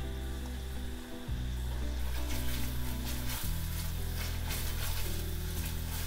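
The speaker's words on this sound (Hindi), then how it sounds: "अब 2-3 मिनट इसको लो गैस में हम भूनेंगे ताकि पेस्ट की भी मिठास निकल के बाहर आए।" Tomato paste frying on low heat in a pan, a steady close sizzle with faint crackle running throughout, under a low continuous hum that shifts pitch twice.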